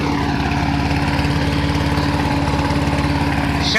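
A Rover lawn mower engine runs steadily at a fast, even idle, its loud, close, rhythmic putter continuing unbroken with no talking.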